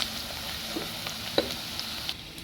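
Chopped lung, liver and heart sautéing with garlic in a pan for bopis give off a low, steady sizzle with a few small pops and stirring clicks, close and moderately quiet, with no talking.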